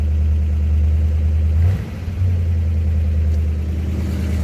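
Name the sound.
1956 Ford Fairlane engine idling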